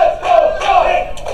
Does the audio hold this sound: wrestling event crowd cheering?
yes